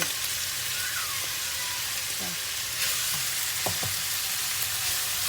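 Sago pork filling sizzles and fries in a pan, a dense steady hiss throughout with occasional scraping stir strokes close by.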